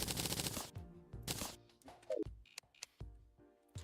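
Crystal bullets fired in Terraria, heard as a rapid string of sharp, crackling game shots at the start, then a few isolated bursts and short chimes separated by near silence.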